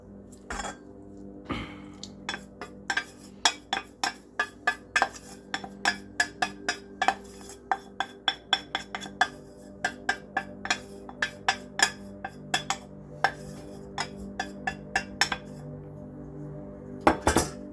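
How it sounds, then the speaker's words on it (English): Melted butter is worked into an apple crisp topping in a bowl, with a utensil clinking and tapping against the dish in a quick, uneven rhythm over many strokes, close by and without talk. "So I'm going to mix the butter into the topping."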